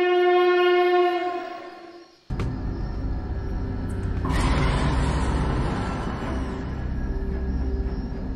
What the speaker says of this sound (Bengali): পাশের লাইনে দ্রুত বেগে একটি ট্রেন ছুটে চলে গেল।